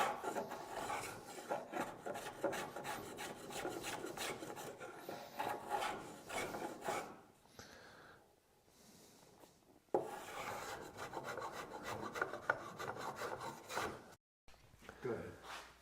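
A luthier trims and shapes rosewood for a guitar, making repeated close rasping strokes with a scraping, filing texture, then a brief pause and more rubbing passes. A voice talks quietly at times underneath.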